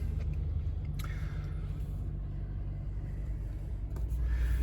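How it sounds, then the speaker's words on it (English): 2024 GMC Sierra 1500 Pro truck engine idling, a steady low rumble heard from nearby with little variation, a couple of faint clicks over it and no speech. "Now if we turn the vehicle on"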